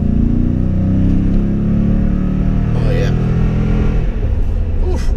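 A supercharged truck accelerates with a loud, steady engine rumble that rises slightly in pitch. A brief voice is heard over the engine.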